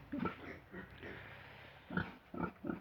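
Large Black pig on a pig farm grunting in a few short, low bursts, one early and a cluster near the end, with quieter snuffling between them. Recorded close and moderately loud, with no one talking.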